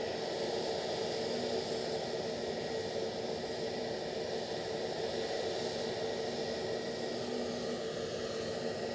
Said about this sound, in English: Ah, BA on a go around.